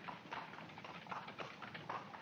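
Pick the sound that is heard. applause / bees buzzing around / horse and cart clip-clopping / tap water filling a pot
horse and cart clip-clopping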